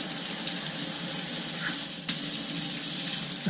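A new massaging shower head runs on its stream setting, giving a steady, close, full-band rush of spraying water that continues without a break and shifts slightly partway through.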